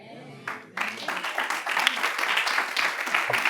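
A church congregation bursts into dense, sustained applause of many hands close by, rising quickly and holding steady, with voices mixed into the clapping.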